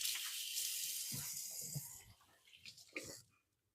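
Hands being washed under a running kitchen tap, a steady close hiss of water for about two seconds, then fading into a few softer splashes and drips before stopping.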